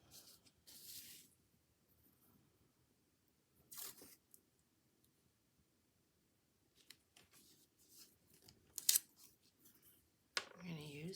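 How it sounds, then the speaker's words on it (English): Scissors snipping through craft paper in short, separate bursts of crisp cutting, close by and fairly quiet, with pauses of near silence between the cuts. "We're gonna cut this."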